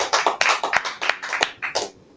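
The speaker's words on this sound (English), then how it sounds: "let's give a big round of applause" A short burst of applause, a small group clapping with uneven, fairly close hand claps that fade out near the end.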